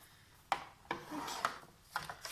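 Scrapbooking card is creased into a fold with several short, dry rasping rubs, close and quiet, spaced irregularly over a couple of seconds.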